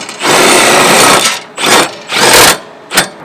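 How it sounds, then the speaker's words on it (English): A power drill runs in reverse on a travel trailer's stabilizer jack at a campground: one long close whirring burst followed by three shorter ones, with no talking. "to bring it back up, it's the same thing, you just reverse the drill"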